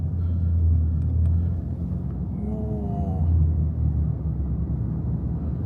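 Interior of a Lexus driverless taxi on a city street, a steady low road rumble and engine hum that eases off as the car slows and pulls up to stop, with faint chimes.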